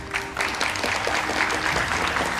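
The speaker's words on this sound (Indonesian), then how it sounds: "Tepuk tangan untuk semua narasumber saya pada malam hari ini." Steady audience applause greeting guests on an evening political talk show, a dense, even patter of many hands throughout, fairly close and loud.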